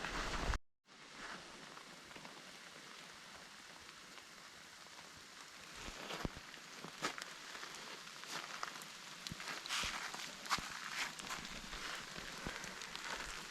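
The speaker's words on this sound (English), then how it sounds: "Can't hear anything with the rain on the hood" Steady rain patters on a jacket hood during an overnight hike, a close, dense crackle of drops with sharper taps scattered through it, continuous after a brief silent gap at the start.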